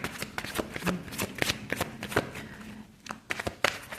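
A deck of tarot cards is shuffled by hand, giving rapid, riffling bursts of papery flicks in an uneven rhythm, close and clear with no talking.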